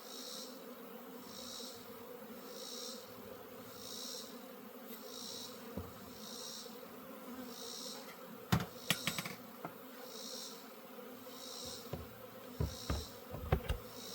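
Honeybees buzzing around a hive, a steady soft insect drone running throughout with occasional sharp knocks and clicks nearby, no talking.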